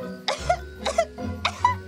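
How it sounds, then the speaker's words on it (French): Three close, raspy coughs in a quick series from a cartoon character, each short and harsh, heard nearby with a faint hum underneath. "juste une petite toux"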